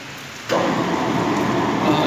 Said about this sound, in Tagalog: Naulan-ulan dito, guys.